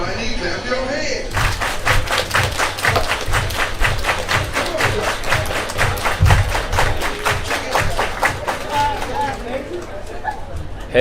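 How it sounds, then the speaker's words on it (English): A baseball crowd at a Suffolk Voyagers at Edenton Steamers game claps in a steady, rhythmic beat that keeps going for several seconds, loud and close, with chatter mixed in. "Everybody clap your hands."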